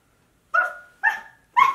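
A dog barks three times with even gaps between, each bark clear and close with a short whining tail, and the room is otherwise quiet.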